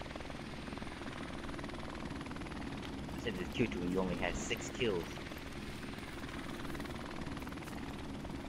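A helicopter in Modern Warfare Remastered on the Shipment map makes a steady, continuous rotor drone throughout, with brief game sound effects midway and a player talking over it.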